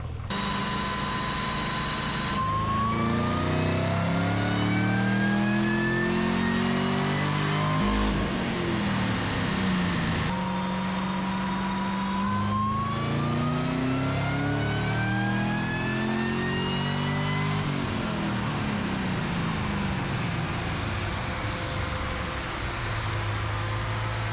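A car engine on a dyno revs up repeatedly in long rising pulls, each climbing in pitch before dropping back, loud and close with a fan roaring in the background.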